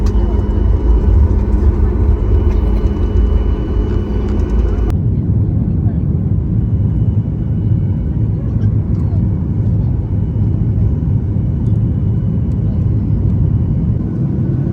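Steady, loud low engine roar inside an airplane cabin in flight, with a humming tone over the first few seconds giving way to a broad continuous rumble, and a person talking over it.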